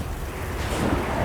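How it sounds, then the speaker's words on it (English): Thunderstorm in the game Monster Hunter Wilds: rain and wind form a dense wash while a low rumble of thunder swells near the end of the short stretch. "There's wind and lightning."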